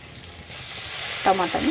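Chopped tomato and ginger garlic paste sizzle steadily in a pan as part of a mushroom gravy, a close, bright frying hiss with a short voice cutting in near the end.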